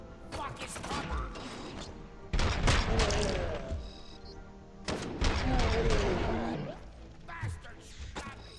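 Gunfire in the Robocop: Rogue City video game, two heavy bursts of shots with mechanical clatter, close and loud, separated by quieter stretches.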